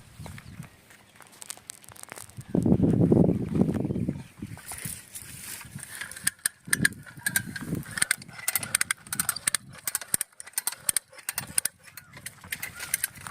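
An American fencing tool machine works on a barbed wire fence under repair outdoors, giving irregular metallic clicks and ratcheting snaps, with a brief low rumble early on.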